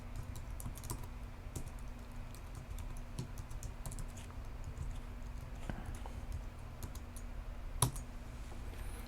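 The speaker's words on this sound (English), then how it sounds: "you got to type in your admin name" Rapid typing of an administrator name on a Mac keyboard, steady light key clicks in a quiet room, close and continuous with no talking.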